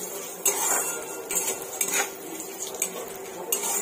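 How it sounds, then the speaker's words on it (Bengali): Cashews frying in ghee in a pan: a spoon clatters and scrapes against the metal in repeated stirs over a light sizzle, close and fairly loud, with no talking. "লাল করে ভেজে নেব কাজুটা"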